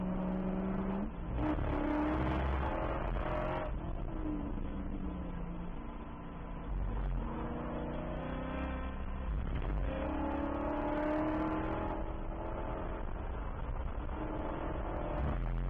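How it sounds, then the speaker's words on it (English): Spec Corvette race cars lap Virginia International Raceway, their engines roaring and rising and falling in pitch through shifts and corners, heard steadily and somewhat muffled throughout. "Drove it really deep into that corner, gaining up a bunch of time on Bruce Griffin"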